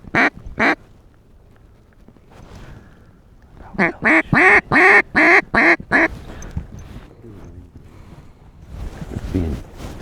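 Pintail and mallard ducks quack in a dry field during a hunt, first two sharp calls, then a rapid loud burst of six or seven quacks close by, with faint talk and wind noise between.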